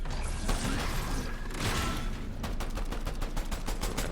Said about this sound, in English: we want to shoot him once, then hit him with our pistol